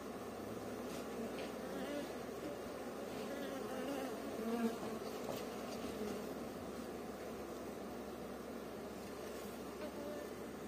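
Dense, steady buzzing of many Istranca honeybees at an open hive close by, a continuous hum with occasional louder passes near the microphone.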